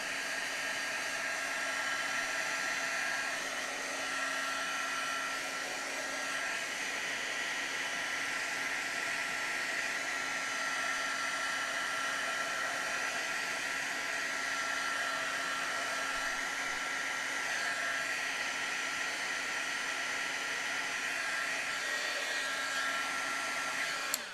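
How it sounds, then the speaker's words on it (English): A heat gun runs steadily on a craft project, drying wet ink or paint during a stamping and cardmaking session, giving a loud, continuous blowing whoosh with a constant motor hum that lasts the whole time, with no talking over it. "But you guys are saying heat gun, so we're going to try it."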